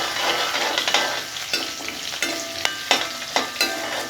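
Shallots and urad dal frying in a pan for curry leaf chutney, a steady close sizzle with intermittent sharp scrapes and clinks of a spatula stirring.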